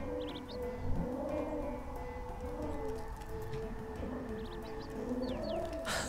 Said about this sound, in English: There's some really talkative birds up here.